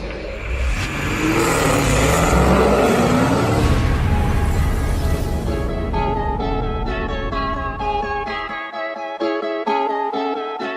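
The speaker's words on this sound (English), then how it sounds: "Guys, we got this 2012 Chrysler 300 here on the dyno." A 2012 Chrysler 300 fitted with a Whipple supercharger revs hard on a dyno. The engine roars at full load, then drops to a lower, rough-edged idle with some rhythmic pulsing.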